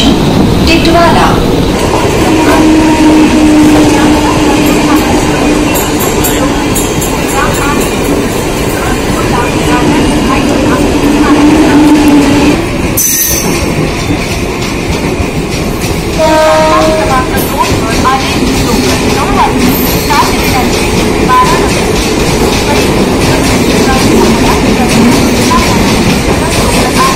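A Mumbai local train running between stations near Titwala: a loud, steady rumble and clatter of wheels and carriages throughout, with onboard announcement voices heard over the noise.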